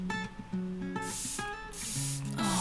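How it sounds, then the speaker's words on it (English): Two soft hissing bursts of Revlon PhotoReady Prep Set Refresh setting spray misted onto a made-up face, close by, over quiet background music. "So this one is the Revlon photoready Prep Set and Refresh Mist setting spray."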